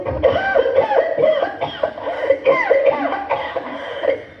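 Repeated hoarse coughing from an elderly person indoors, a close, loud string of coughs with short pauses between fits.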